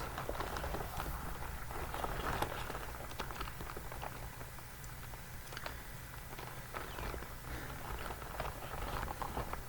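Continuous wet-sounding squelching and crackling of rubbery material handled close to the mic, with irregular sticky pops throughout.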